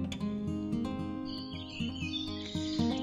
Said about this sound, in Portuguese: o Irapuru voa pela floresta, encantando a todos com seu canto triste